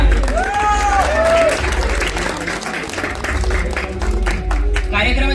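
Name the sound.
audience applause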